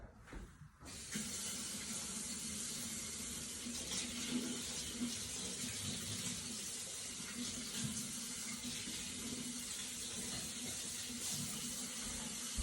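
A kitchen tap runs steadily while water is measured out by the cup for homemade wheat bread, a continuous close hiss that starts abruptly and holds nearly unchanged for over ten seconds with no talking.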